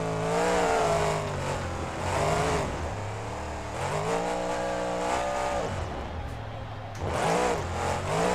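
Monster truck engine in the BeamNG driving game revving hard at high RPM, rising and falling in waves with harmonic whine, loud and close throughout.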